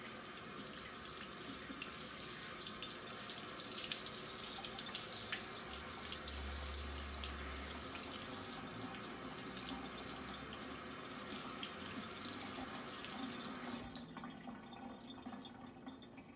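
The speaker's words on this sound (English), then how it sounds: "Find the garlic, hold it there, rinse it off." Garlic rinsed under a running kitchen tap, a steady close hiss and splash of water pouring into the sink that cuts off near the end, with no voices.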